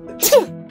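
A single sharp human sneeze, close and loud, with a quick breathy burst that ends abruptly, heard alone without talk.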